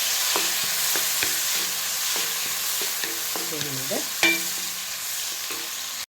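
Tomato frying in a pan for egg sambar, with a constant soft sizzle beneath repeated rhythmic stirring and scraping, plus one sharper clink near the end.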